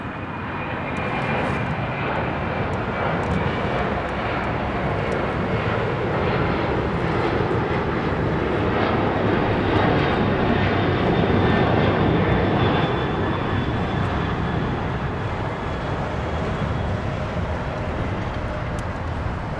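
A LATAM Cargo jet climbs out of LAX bound for Seattle, its engines a loud, steady, broadband roar that holds for the full stretch with a faint high whine on top and no voices.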